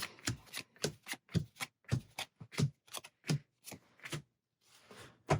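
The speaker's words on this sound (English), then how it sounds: "Shuffle up and reset this level." A deck of playing cards is riffled and bridged repeatedly during a game of Mini Rogue, a series of crisp, close fluttering bursts separated by brief pauses.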